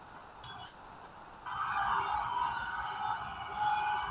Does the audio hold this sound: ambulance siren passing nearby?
yes